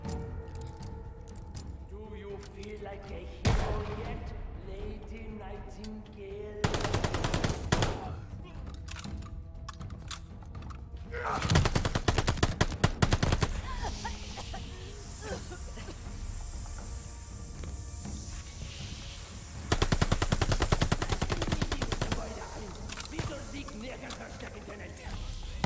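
Rifle fire in the video game Call of Duty: Vanguard, sharp loud bursts in a few separate volleys over game music and ambience, with someone talking between them.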